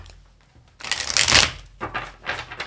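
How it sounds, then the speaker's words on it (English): A quick riffle of tarot cards, a dense papery burst followed by a couple of shorter shuffles, close and fairly loud with no talking. "Do a couple quick shuffles here."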